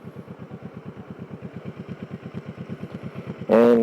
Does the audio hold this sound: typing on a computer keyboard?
no